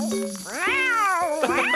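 A cartoon female cat lets out a long, clear, rising-and-falling meow followed by a shorter second meow, loud and close with no talking.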